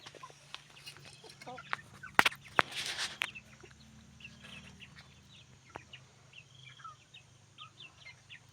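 Several chickens cluck and chatter nearby in scattered bursts, with a few louder squawks amid soft outdoor background noise.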